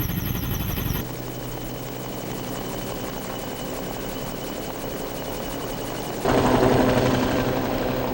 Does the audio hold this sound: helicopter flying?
yes